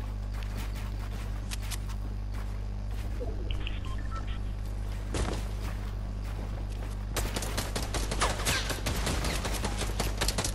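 Gunfire in Fortnite, scattered shots early that build into a dense rapid burst of firing near the end, heard over a steady low drone.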